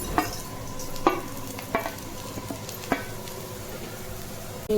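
Sliced onions sizzle in a hot pan with green chillies for chicken liver fry, a steady quiet frying hiss broken by a few sharp stirring scrapes and clinks of a spoon.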